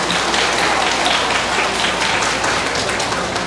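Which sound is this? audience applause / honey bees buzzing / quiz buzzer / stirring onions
audience applause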